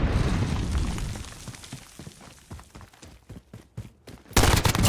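Video game battle with a grenade explosion and gunfire: a loud, sustained blast roars first, then a run of sharp, uneven shots crackles before another heavy burst hits at the end, with no voices.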